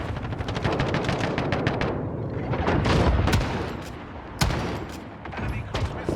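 Sustained automatic gunfire in a Call of Duty match, rattling bursts of close shots layered over a rumbling battle backdrop, with a sharp loud crack near the end.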